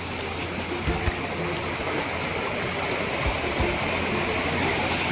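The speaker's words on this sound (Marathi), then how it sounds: "हे मलंगडच्या धबधब्यावरून पाऊस पाणी येतो" Rainwater pours down Malangad waterfall in a dense, continuous rush of roaring water, steady and close, with no voices over it.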